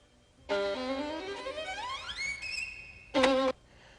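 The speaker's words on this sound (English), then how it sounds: "That was the sound of somebody playing a violin." A lone violin plays a short phrase with a rising, sliding pitch, ending in a brief bowed note after a pause.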